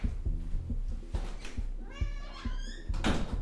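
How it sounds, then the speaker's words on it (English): A pet cat named Goji meows in a rising, yelling call near the end, with a few softer meows earlier over a low background hum and faint thumps; no talking. "I think I hear my cat yelling"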